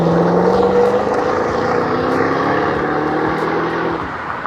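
A 2010 Chevrolet Camaro SS in Summit White accelerating away, its engine a loud, steady roar with a rising tone that slowly thins as the car pulls off.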